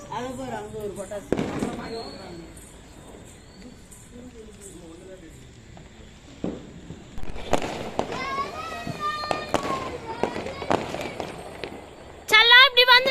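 Firecrackers crackle and pop outdoors during Karthigai Deepam, with scattered bursts early on and a loud crackling volley at the end, while children and adults talk nearby.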